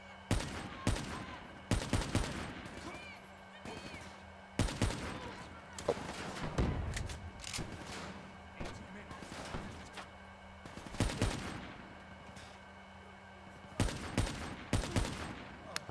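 Gunfire in the Call of Duty Black Ops 3 campaign, with repeated bursts of shots coming in clusters across the stretch and game ambience and light speech between them.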